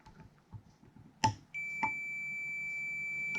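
An electronic multimeter beep sounds during a continuity test on a part from an Audi Coupe under restoration, one short click and then a steady continuous tone held for about two seconds, with no talking.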